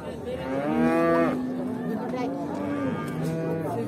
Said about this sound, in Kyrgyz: Мына чоң уйларды карап коюңуздар.